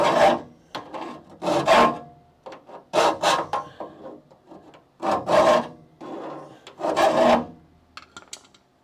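A hand file rasps in long separate strokes across a metal rear frame rail of a crew cab Charger, each pass loud and close, with short pauses between strokes and no talking.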